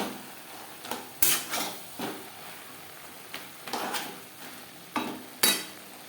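A spatula stirs chichinga and prawns in a pan over high flame, with intermittent metallic scrapes and clanks against the pan over a faint sizzle.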